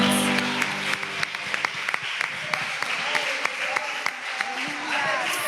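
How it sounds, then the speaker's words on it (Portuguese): A church congregation at a women's worship service claps, with scattered distinct hand claps over a murmur of voices and talking, the clapping moderately loud and irregular. "aplauda ao Senhor, irmãos."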